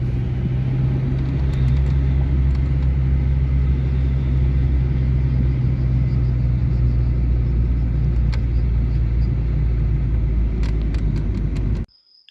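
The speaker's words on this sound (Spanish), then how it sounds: "El sonido del motor, cuando se sube de vuelta, pues se nota bastante en el habitáculo" A Renault Super 5 hatchback's engine drones steadily from inside the cabin, a loud, constant low rumble at modest revs that cuts off abruptly at the end.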